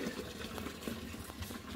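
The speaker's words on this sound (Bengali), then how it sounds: "বালতিতে জল ভরতে দিয়েছি।" Tap water runs into a bucket with a faint, steady splashing gush, heard alone and at low level throughout.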